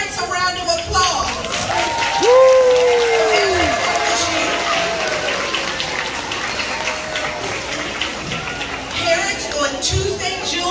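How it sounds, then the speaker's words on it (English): Crowd applause with cheering at a school graduation ceremony fills the space, steady clapping from many people alongside loud talk and a shout, continuing throughout. "let's give our parents a round of applause"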